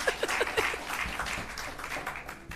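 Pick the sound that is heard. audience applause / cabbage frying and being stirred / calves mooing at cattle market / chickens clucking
audience applause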